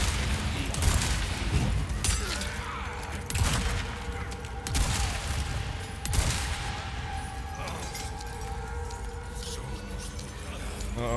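Shotgun blasts in the Resident Evil 4 Remake video game, several booming shots spaced through a busy mix of game music and effects, with a voice talking over them.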